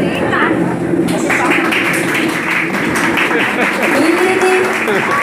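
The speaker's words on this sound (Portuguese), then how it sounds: "Gostaria que vocês levantassem para bater palmas para nossas famílias." Guests at a family party stand and applaud the families, sustained loud clapping mixed with voices and crowd noise throughout.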